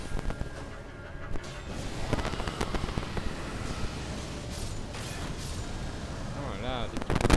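Explosions and battle clashes in the video game Elden Ring, fighting Lichdragon Fortissax: dense, repeated booming blasts and impacts crowd together over several seconds, loud and chaotic, with a voice talking over the din.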